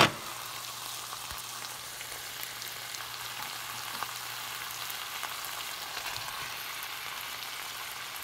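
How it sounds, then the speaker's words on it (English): Andouille sausage and shrimp sizzle loudly in a hot pan for Cajun shrimp and grits, a dense, even crackle throughout with a faint low hum underneath. "now I'm ready to add my andouille sausage and my shrimp back to the dish"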